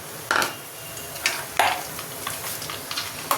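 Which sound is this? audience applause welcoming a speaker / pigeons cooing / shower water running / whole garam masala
whole garam masala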